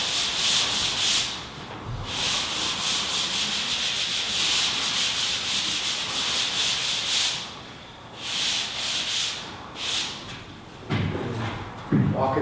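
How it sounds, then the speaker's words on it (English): A well-worn sponge is rubbed over dried drywall joint compound in steady back-and-forth strokes, producing a loud, close, continuous rasping swish with brief pauses and a thump near the end. "And this sponge here, it's a well worked in sponge. It'll take those scratches out for you."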